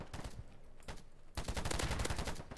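Gunfire in the multiplayer shooter Polygon, rapid bursts of automatic shots, a short volley, a brief pause, then a dense sustained stream of fire, fairly close.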